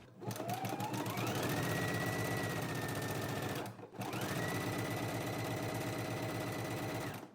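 A sewing machine stitching a pant seam runs in two loud sustained bursts, its rapid mechanical chatter rising in pitch as it speeds up, with a brief pause between runs.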